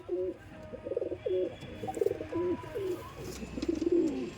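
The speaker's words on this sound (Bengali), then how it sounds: "প্রতিটা পায়রা টেম্পার আছে প্রতিটা পায়রা আন্দ্রা পায়রা" A series of soft, rhythmic coos from Andhra pigeons in a loft repeats steadily throughout, low and rounded, with faint background noise.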